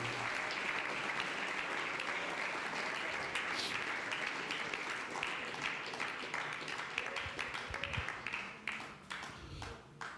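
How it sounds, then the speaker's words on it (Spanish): A church congregation claps together during a Spanish-language worship service, a dense, sustained round of applause that runs for about ten seconds at a steady level and slowly thins toward the end. "Fuerte ese aplauso para Él, hermanos, fuerte ese aplauso para Él."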